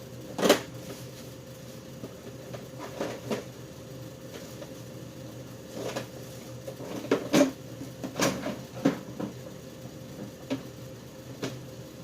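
Scattered clinks, clatters and shuffling of tools being moved around in a tool box, irregular and close, with quiet pauses between bursts.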